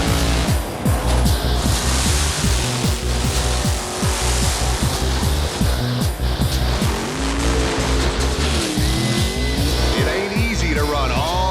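Race car running all out at Bandimere Speedway in Denver, a loud continuous engine roar with rhythmic revving pulses and shifting pitch throughout, close and dominant.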